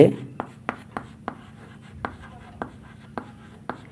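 A pen moves across paper in a series of short, evenly spaced scratchy strokes, close and faint, over a quiet room background.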